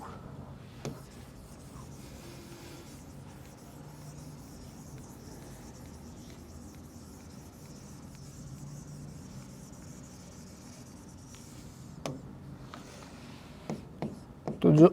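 Marker or chalk scratches softly across a board while a maths solution is written out, faint continuous rubbing strokes with a few sharper taps near the end, and someone talks in places.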